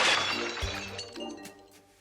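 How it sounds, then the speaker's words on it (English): Glass panes in a set of doors shatter in a comedy film scene, a loud crash of breaking glass followed by scattered tinkling shards that fade out over two seconds. "As the camera moves into the room, it shatters the glass on the doors"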